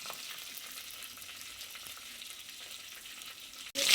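Spices for rasam sautéing in a pan, a steady soft sizzle and crackle running throughout with faint stirring scrapes, close and alone without talk, ending in a sudden louder burst.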